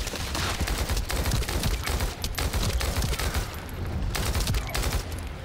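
Sustained automatic gunfire from hip-firing a weapon in The First Descendant video game, a loud continuous rattle of rapid shots with brief dips, heard alone without talk.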